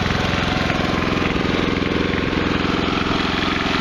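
A Westinghouse iGen 4200 generator runs during its break-in, a loud, steady engine drone close by with an even, fast pulsing and no talk over it.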